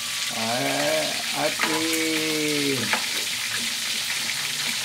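Chicken drumsticks fry in hot oil with a steady, close sizzle throughout, while a voice speaks briefly over it near the start.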